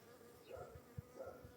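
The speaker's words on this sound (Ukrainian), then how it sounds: "Вон, ну, вон і бджолка появилася." A single bee buzzes faintly around a blossoming old apricot tree outdoors, a soft, low drone that comes and goes with no voices over it.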